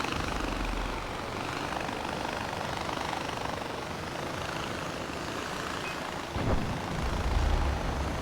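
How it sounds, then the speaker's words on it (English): A helicopter in the video game Far Cry 4 drones steadily with a loud, constant rotor and engine roar, swelling slightly near the end. "I don't want to be in this helicopter. It is way too damn loud."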